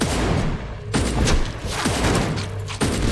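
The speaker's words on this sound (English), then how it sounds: "Here the homing missile is just insane." Homing missiles in the action RPG The Incredible Adventures of Van Helsing burst repeatedly in a tunnel fight, a rapid string of loud thumping impacts and crackling blasts close by.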